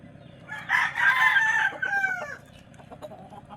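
A rooster crows loudly nearby, one long strained call that trails off, followed by soft clucking.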